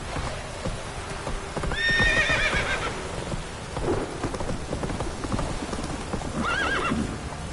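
Roach, a horse in The Witcher 3, gallops in steady rhythmic hoofbeats amid rain and distant rumbling thunder, with two short whinnies breaking through, one early and one near the end.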